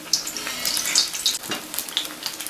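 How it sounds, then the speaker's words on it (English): Potato and onion pakoras in batter frying in hot oil, a close crackling sizzle with small bursts of popping and bubbling. "drop it in the hot oil and fry them from both the sides until crispy"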